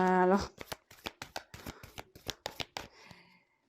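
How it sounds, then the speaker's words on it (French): Playing cards being shuffled by hand in quick riffled bursts, about a dozen sharp rustling snaps in a fast, uneven rhythm, close and clear, following a brief voice at the start. "Pourtant, j'ai battu les cartes"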